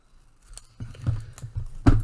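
Scissors snip through material in several separate crisp cuts, close and fairly loud, with faint rustling between them and no talk.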